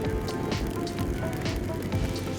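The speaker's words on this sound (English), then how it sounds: "Still raining." Steady rain falls around a BMW R1200RT motorcycle on a road trip in Kentucky, making a continuous, close hiss of drops with faint pattering bursts throughout and no voices.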